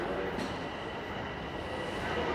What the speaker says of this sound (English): I hear a train rolling in right now